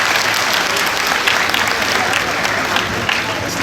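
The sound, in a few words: loud applause from audience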